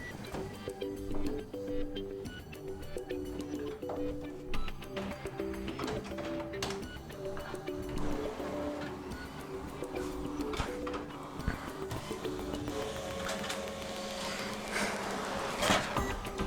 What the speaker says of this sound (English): and printer, as you can see,